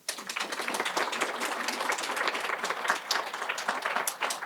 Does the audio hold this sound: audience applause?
yes